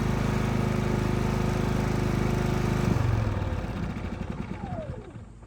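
A Predator 5000 gasoline generator runs with a loud, steady engine drone, then the pitch drops partway through and the running winds down unevenly as it shuts off.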